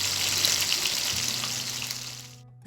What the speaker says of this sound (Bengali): এখন আমি সবগুলো মাছ দিয়ে হালকা করে ভেজে নিব।